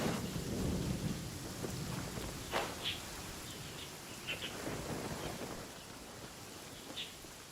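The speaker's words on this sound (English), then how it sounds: "the rain, it's very fickle in this area" Steady rain in Genshin Impact falls with rumbling thunder underneath and a few faint chirps, continuous at moderate level for several seconds, with no talking.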